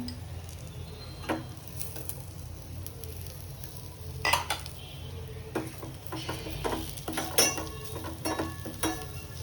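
Curry leaves and turmeric fry in oil in a pan for pepper rasam, a continuous crackling sizzle broken by frequent sharp pops and spatters, close and fairly loud, with no voices.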